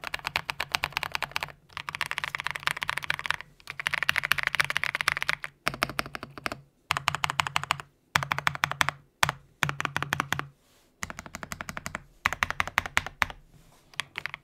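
Steady bursts of typing on a creamy-sounding custom mechanical keyboard, heard fairly close and alone, with dense clusters of soft keystrokes broken by short pauses.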